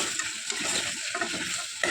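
Goat trotters for Telangana mutton paya are stirred through a sizzling tempering, with a steady loud crackle of hot oil and scraping stir strokes repeating throughout, no voices.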